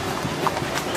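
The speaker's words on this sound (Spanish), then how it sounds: "Por acá vienen una chulada de caballos que vienen por este lado." Horses' hooves clip-clop during a friendship horseback parade (cabalgata) in Yautepec, a steady stream of overlapping hoof hits amid outdoor crowd noise.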